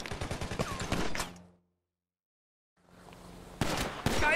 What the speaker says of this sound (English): Shoot the bastards!